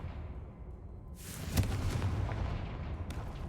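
Fire-explosion spell cast in the video game Hogwarts Legacy: a single sharp blast that swells into a booming, rumbling burst and then carries a lingering crackling tail, close and loud.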